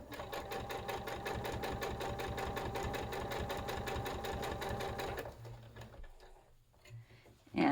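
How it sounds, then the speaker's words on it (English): A sewing machine stitches a quilt block in a fast, steady mechanical chatter for about five seconds, then stops, leaving quiet handling noises before a short bump at the end. "So we're going to go ahead and sew that up."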